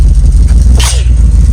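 A single sharp sneeze bursts out briefly over the loud low rumble of an idling old car engine nearby.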